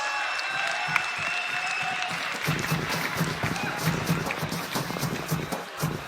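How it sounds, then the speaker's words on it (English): A crowd at a PUBG Mobile esports finals event claps and applauds steadily, a dense patter of many hands that builds after a quieter start and keeps going to the end. "I can hear that the crowd are actually applauding this man's work"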